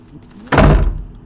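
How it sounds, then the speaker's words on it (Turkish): A door opening in the horror video game Dark Hours: Prologue, a single loud thunking burst that starts abruptly and rings briefly before fading, with faint background sound before it. "içeriye atla kapıyı aç bana"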